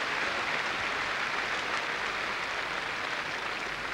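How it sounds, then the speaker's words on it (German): Steady applause from a stadium crowd at Dresden's Heinz-Steyer-Stadion for a women's 400-metre runner, a dense, even wash of clapping that holds at one level for the whole stretch with no voices over it. "Verdienter Beifall."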